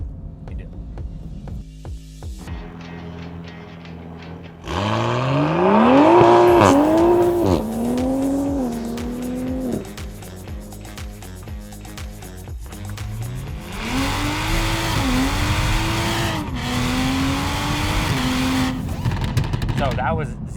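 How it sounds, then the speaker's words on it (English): Tuned 500 hp 2021 Toyota Supra doing a long burnout down a street, engine revving hard and rising in pitch over the spinning, squealing tires, loud and close, easing briefly before a second surge. "I am burning out down the entire street."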